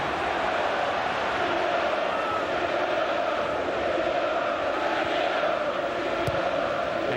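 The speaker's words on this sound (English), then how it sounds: "There's no way the players can hear them either with this noise. Jam-packed, capacity crowd." A jam-packed capacity football crowd at Manchester City vs Gillingham keeps up a steady, distant roar that fills the whole stadium without a break.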